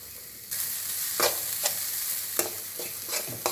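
Grated coconut stir-roasted in a dry pan, a steady soft sizzle broken by repeated scraping strokes of a spatula against the metal, close and fairly loud with no talking.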